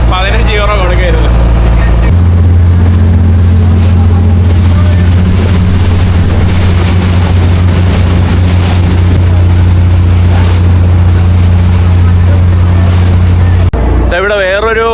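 A large ferry travelling across open water to Malta's main island, its engine giving a loud, steady low drone with rushing water and wind noise over it, running continuously before cutting off near the end.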